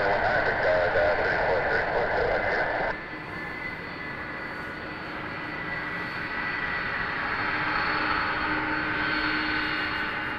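Jet aircraft taking off at Toronto Pearson Airport at night, a steady broadband engine roar that continues throughout after a brief overlapping radio-like segment at the start.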